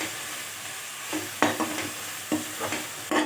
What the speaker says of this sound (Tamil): இஞ்சி பூண்டு நல்லா வதங்கியாச்சுங்க